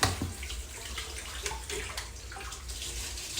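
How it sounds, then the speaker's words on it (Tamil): Combs rinsed under a running tap, a steady close splash of flowing water without talk. "மோஸ்ட்லி நான் சீப்பை வாஷ் பண்ணிடுவேன் கொண்டாந்து உடனே போட்டு."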